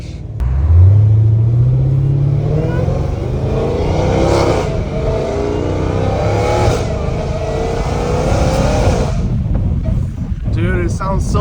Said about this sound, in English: I was able to finally get a valve exhaust in California, and it's actually titanium